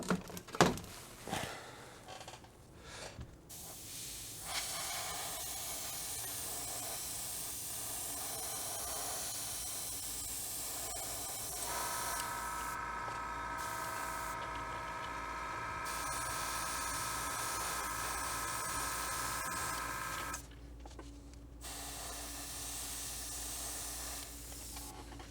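An airbrush sprays red paint onto gray sprue and black and white primed model surfaces, a continuous close hiss running in long steady bursts with brief pauses and slight shifts in tone.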